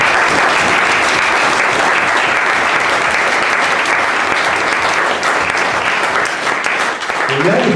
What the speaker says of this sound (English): So I think that deserves a round of applause.